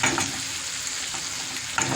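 Tomato paste with hot, green and colored peppers frying in a pan, a steady close sizzle with soft stirring scrapes and a brief louder burst near the end, no talking.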